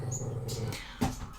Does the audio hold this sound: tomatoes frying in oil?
no